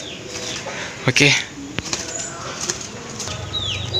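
Birds in an aviary, including pigeons or doves, with bursts of flapping wings, short cooing and chirping calls close by, and someone speaking briefly over the activity.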